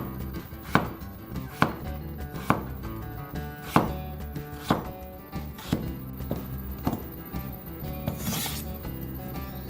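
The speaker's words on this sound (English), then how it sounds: "Let's now slice this potato and transfer it into a dish." A knife slices a potato on a cutting board, with about a dozen sharp, close chopping knocks at a steady, unhurried rhythm.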